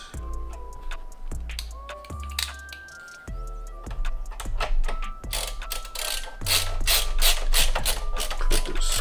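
Screwing a network card into a Synology NAS produces a steady run of small metallic ratcheting clicks and ticks from a screwdriver, close and fairly loud, with no talk.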